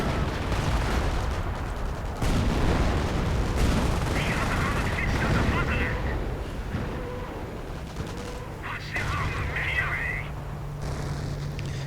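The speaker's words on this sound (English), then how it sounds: "Again, lots and lots of artillery." Artillery fire in a real-time strategy war game as dense, overlapping booms and crackling gunfire rumble continuously, with a voice talking over them throughout.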